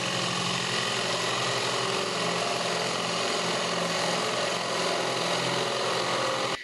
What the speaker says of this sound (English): I'm going to use a paddle bit to drill our 1-inch hole.